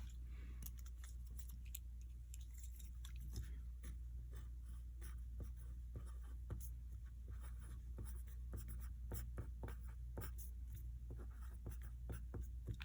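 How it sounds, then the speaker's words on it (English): A pencil writes a name and date at the top of a page, giving steady close scratching strokes with short rhythmic bursts throughout, over a low constant hum with no talking. "first you have to write your name and date on the top in pencil"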